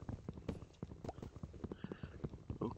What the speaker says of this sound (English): It's horses!